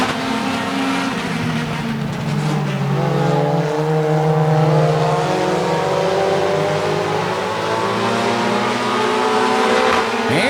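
Race cars including a 2001 Honda Prelude and a Chevy Cobalt battle in a heat race, engines droning and revving loudly and close by with rising and falling pitch, layered over one another throughout.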